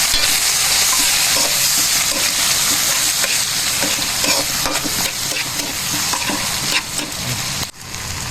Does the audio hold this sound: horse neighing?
no